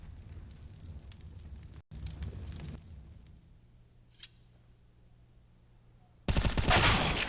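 Gunfire in Counter-Strike on the Mirage map: muffled game ambience with a brief faint metallic tick, ending in a loud, sustained burst of close shooting.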